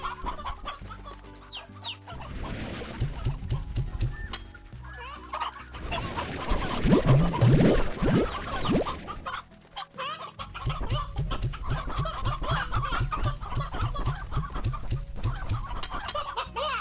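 Chickens clucking in the farming video game Slime Rancher, short repeated clucks in rhythmic bursts over a busy game soundtrack, loud and close.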